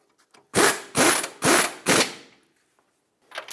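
A ratchet wrench snugs the tie rod mounting nut on the steering knuckle of a 2008-2012 Honda Accord, four loud, close clicking bursts in a steady rhythm, heard alone.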